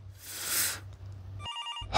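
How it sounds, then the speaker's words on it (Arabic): A telephone rings in a busy Egyptian workplace, a short bright electronic trill pattern near the end over a steady low hum, with earlier broadband noise but no talk. "يا اسطى هرد لك على التليفون"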